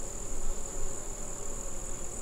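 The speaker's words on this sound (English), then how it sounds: "I think these bees are very, very happy in this bee yard." Honey bees buzz in a bee yard during a hive inspection, a steady close insect drone that holds for a couple of seconds with no talking.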